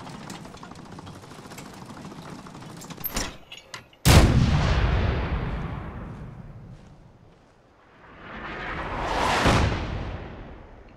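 Artillery fire in the Fallout 4 video game: several heavy booming shots around the middle, with a big blast and a long rumbling decay, then a later swelling rush of another incoming round, loud and with no voices.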